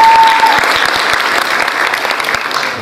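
A full hall applauds at an award ceremony, loud dense clapping with a brief tone at the start, steady and sustained throughout.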